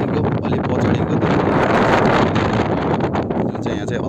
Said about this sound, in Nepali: यहाँ चाहिँ अति हावा पनि लाग्छ